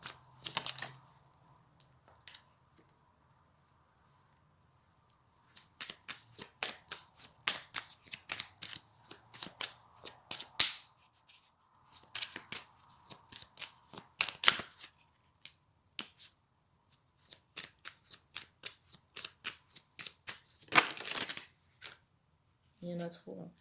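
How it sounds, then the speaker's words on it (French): Playing cards shuffled during a tarot-style card reading, with bursts of crisp riffling and flicking in several quick runs, close and fairly quiet, with a voice talking in places. "on me dit de tirer deux autres cartes"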